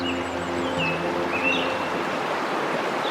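Steady rushing roar of Thekkemala waterfall in Kerala heard from a roadside bridge, a broad continuous wash of falling water with faint birdsong flickering above it, no talking.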